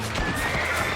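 A horse neighs and whinnies in the Western video game Red Dead Redemption, a loud, close call over a steady bed of game ambience, with hooves clip-clopping underneath for about a second.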